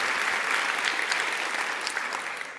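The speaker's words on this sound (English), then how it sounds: "just give her another round of applause for starting us off today" An audience at a TEDx youth event gives a round of applause for the opening speaker, dense even clapping that holds steady and tapers slightly toward the end.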